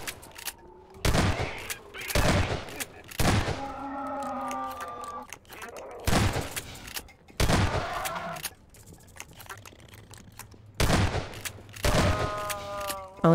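Loud shotgun blasts from a video game fire in a halting rhythm, about six heavy shots spaced a second or more apart, with a person talking and reacting between them.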